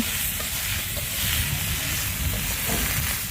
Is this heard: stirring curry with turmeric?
yes